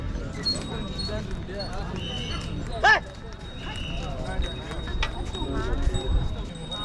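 Bullock cart hooves clip-clop in a loose rhythm on a hard road near the Adiyogi Shiva statue, amid crowd chatter and traffic noise, with a sharp whistle-like tone partway through.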